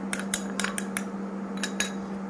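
A spoon stirs cocoa powder into marble cake batter in a bowl, giving a series of light, irregular metallic clinks against the sides over a faint steady hum.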